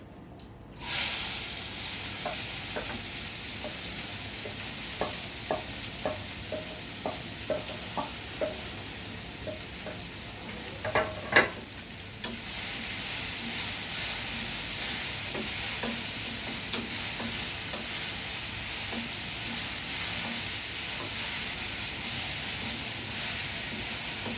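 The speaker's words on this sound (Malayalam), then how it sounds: "ഇത് നമുക്ക് ചെറിയ തീയില് ഒന്ന് ഇളക്കിയത് മിക്സ് ചെയ്ത്" Beetroot thoran being stir-fried on a low flame, a steady soft sizzle with a run of light scraping and stirring taps, then a continuous hiss as cooking goes on.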